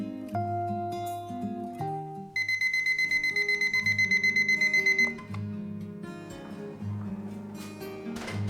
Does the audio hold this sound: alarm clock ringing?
yes